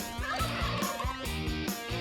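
A turkey gobbles repeatedly in rapid, rattling bursts, loud and close, with no talking.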